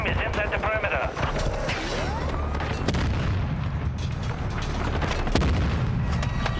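Semtex grenade blasts and gunfire in Call of Duty Warzone, with booming explosions, sharp rattling shots and mechanical clatter layered over game action, while players speak over the din.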